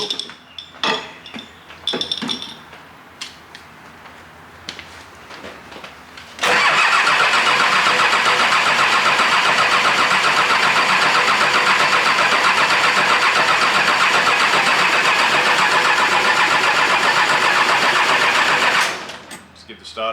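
A million-kilometre Nissan TD42 diesel, freshly rebuilt and out of gear, cranks steadily on its starter motor for about twelve seconds without firing, loud and continuous, after some brief clinks and handling noises.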